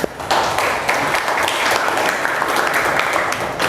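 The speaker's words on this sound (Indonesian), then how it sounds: "Tepuk tangan untuk video kita hari ini." Sustained hand clapping that starts abruptly and rolls on evenly, close and fairly loud, like a group applauding during a classroom lesson.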